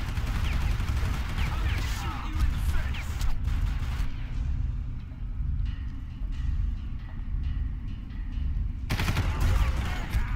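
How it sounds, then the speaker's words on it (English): Enemy gunfire in the shooter game Far Cry as hostile fighters trade shots with each other. Loud bursts of shots crowd the opening seconds, thin out into scattered distant pops, then surge again at the end. "They're shooting each other right now."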